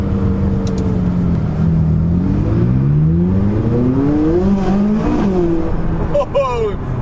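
A McLaren 570S accelerates hard, engine pitch sweeping upward through the revs with shifts along the way, loud from inside the cabin, with brief voices over the engine toward the end.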